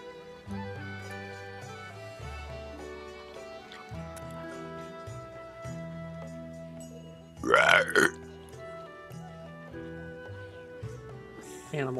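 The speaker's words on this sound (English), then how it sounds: "That was a belch." A short, loud belch rises mid-clip over a bed of background game music with sustained tones, standing out clearly for about half a second.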